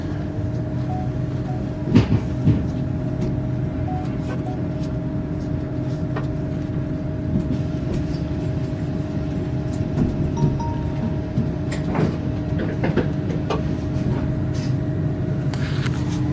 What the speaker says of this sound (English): So, the train has started moving.